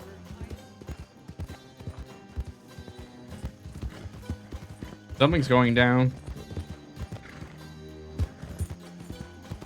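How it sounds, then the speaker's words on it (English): Many horses' hooves clip-clop steadily in Red Dead Redemption 2, a dense, rhythmic clatter running throughout under talking voices, with a brief loud horse whinny near the middle. "it's a lot of horses"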